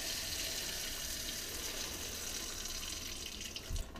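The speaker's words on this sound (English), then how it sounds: "so if I turn on the water here," Water runs steadily from a faucet, draining the supply line below a bathroom during a toilet and bidet installation; a continuous loud rushing stream, alone with no talk.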